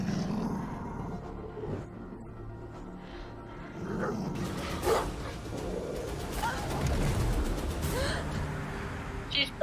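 A dog barks and growls in a tense movie scene, heard in short bursts mixed with gasps and scuffling under dramatic background sound and some talk.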